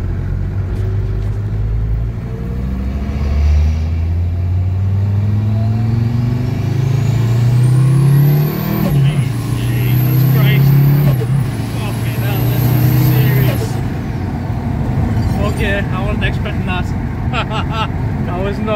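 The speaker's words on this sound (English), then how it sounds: "Excuse the old RB box, it's a bit noisy." A Nissan Stagea with a swapped-in Mercedes OM605 turbodiesel and an old, noisy RB gearbox, driving with a loud droning engine that rises through gears alongside gear whine, under people talking.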